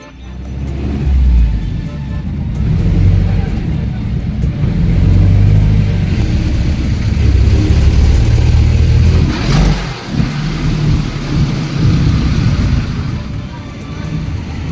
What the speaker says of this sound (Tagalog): nandyan yung kalsada at may mga jeep dyan bumabiyahe papuntang rekto